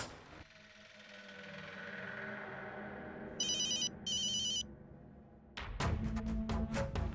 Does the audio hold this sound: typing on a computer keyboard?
no